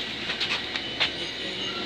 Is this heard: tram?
yes